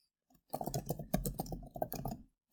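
Text is typed on a computer keyboard in a word processor, a brief, close run of clicky keystrokes that stops after about two seconds.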